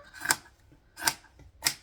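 Three crisp snips of scissors cutting fabric, evenly spaced and close, in an otherwise quiet room.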